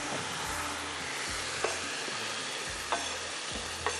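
Ginger-garlic paste fries with browned onions in a pan while it is stirred, giving a steady close sizzle with a few soft scraping knocks.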